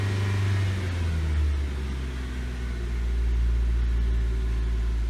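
A Nissan Sentra engine with an idle stalling fault eases off the throttle, its low steady drone settling downward toward idle, loud and close with a deep rumbling hum and no talk.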